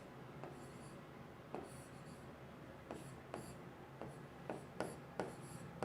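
A chemistry teacher handwriting ionization equations, giving soft scratching strokes and quick taps of pen on a writing surface, irregularly spaced and faint, with quiet room noise between them.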